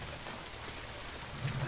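Steady, dense rain falls in a wartime Pacific island scene from a TV show, a continuous hiss of drops on surfaces at moderate volume with no voices.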